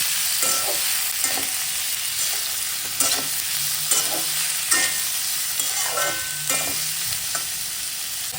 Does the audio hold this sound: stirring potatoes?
yes